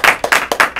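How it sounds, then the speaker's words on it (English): A small audience claps for Charles after a film Q&A at Lesley University, a short, close burst of distinct individual handclaps in an uneven rhythm, loud and alone without talk. "Let's all have a round of applause for Mr."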